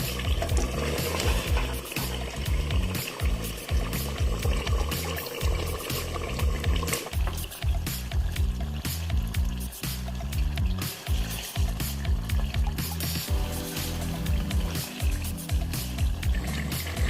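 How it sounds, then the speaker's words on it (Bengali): Mutton frying and being stirred in a pan for Bengali kasha, a dense, steady, bubbling sizzle that runs loud and close throughout, with spoon scrapes mixed in. "আমরা একটু কিছুক্ষণ ধরে কষাবো, মাংসটা যতক্ষণ নরম না হচ্ছে"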